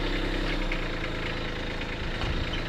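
A Kubota B2601 compact tractor's diesel engine runs at a steady idle, a close, continuous rumbling chug with a slight knocking rhythm and no voices over it.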